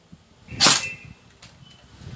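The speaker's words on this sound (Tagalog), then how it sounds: "I-test fire natin ang Slong Sabertooth kung ilang FPS ba ito mga master" A single sharp shot from a Slong Sabertooth airsoft gun during a test fire, a crisp snapping crack near the start followed by a couple of faint mechanical clicks, otherwise quiet.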